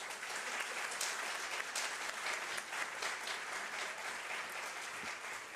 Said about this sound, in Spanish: Con este aplauso agradecemos al licenciado Ángel Luis Campo Izquierdo por su magistral participación